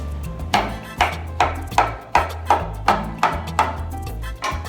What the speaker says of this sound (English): you just cut up the banana